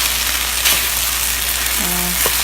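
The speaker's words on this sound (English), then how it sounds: "mixing things around until all the rice is coated with the soy sauce and the vegetable" Vegetable fried rice with soy sauce stir-fried in a hot pan, giving a steady, loud, close sizzle with faint scraping from stirring. A brief soft voice-like tone rises near the end.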